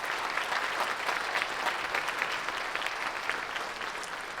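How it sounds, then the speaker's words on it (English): An awards-ceremony audience at a summit gives a dense, sustained round of applause for Ted St. John, steady and full throughout with no voices standing out. "Can we just give that guy, Ted St. John, can we give him another round of applause for the work that they're doing?"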